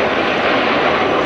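An Airbus A380 airliner taking off at the ILA 2008 air show, its engines a loud, steady, broadband roar that fills the whole moment without a break.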